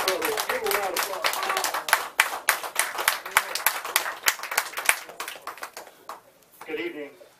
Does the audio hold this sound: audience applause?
yes